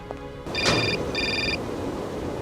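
A telephone rings in the video game Syberia, two short electronic trilling bursts over a steady background ambience, fairly faint.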